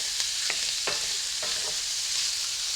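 Sausage browning in a hot pan for jambalaya, a continuous bright sizzle with a few soft stirring scrapes, close and alone without voices.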